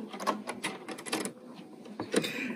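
A sewing machine takes a few zigzag stitches over cording in a short, quiet burst of rapid mechanical ticking, with a brief pause partway through before a few more stitches.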